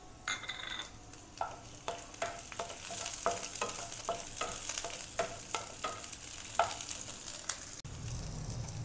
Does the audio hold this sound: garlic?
yes